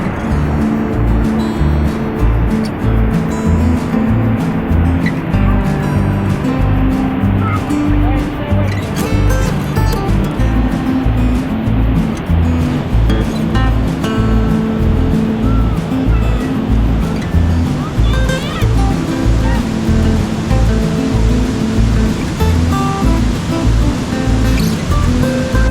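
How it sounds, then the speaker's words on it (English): Amicalola Falls, Georgia's tallest waterfall, swollen after a night of heavy rain, roars in a dense, steady rush of water that fills the whole clip without pause. "just look at all this water coming down here"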